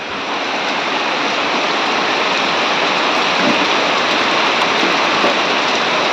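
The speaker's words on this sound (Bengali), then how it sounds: "ফাইনালি এবছরের প্রথম বৃষ্টি" Steady heavy rain, the first of the year, pours down as a dense, unbroken hiss at even loudness from start to finish.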